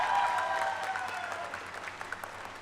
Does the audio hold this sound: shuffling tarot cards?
no